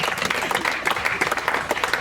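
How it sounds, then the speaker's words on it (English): An outdoor crowd at a live music festival claps for a pair of Chippewa drummers from the Red Cliff Band, a dense, steady patter of many hands heard at a distance. "Let's give a round of applause for them."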